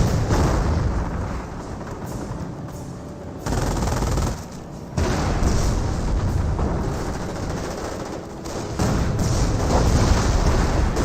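Sustained gunfire and heavy weapon fire from a Company of Heroes battle, with an M10 tank destroyer shelling Panzer Grenadiers amid dense, loud continuous shooting and brief lulls.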